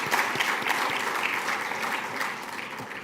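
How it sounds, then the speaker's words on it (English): Conference audience applause fills the room, a dense, even patter of many hands clapping at moderate volume that tapers slightly toward the end, with no speech over it. "All right, round of applause."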